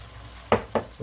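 Perilla leaf sprouts being tossed and stir-fried in perilla oil, three quick clanks of utensil against pan over a low background hum.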